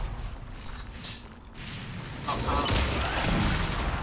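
Booming explosions and a rattling burst of gunfire from a fantasy video game, loud and rumbling, surging again in the second half.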